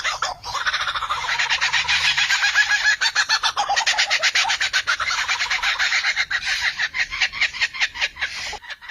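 A lyrebird mimics camera shutters, car alarms and laser-like sounds, producing a continuous, loud stream of rapid pulsing, clicking notes that stutter and repeat for several seconds.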